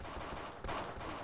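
Gunfire from a shotgun in the video game Pixel Gun 3D crackles in a dense, rapid burst of loud shots lasting about a second, with no voices over it.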